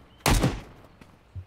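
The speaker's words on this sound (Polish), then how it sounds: "Strzały, dźwięki strzałów płaskie i tak dalej trochę" A single sharp gunshot rings out in the video game Road to Vostok, followed by a fading tail and a couple of fainter distant thumps, with no talk over it.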